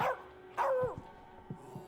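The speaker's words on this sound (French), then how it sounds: "Le chien, c'est un chien, c'est normal, il aboie de temps en temps quand ils sont menacés." Short barks from a dog in the video game As Dusk Falls, a sharp yelp followed by a few softer, lower woofs spread over two seconds, fairly close.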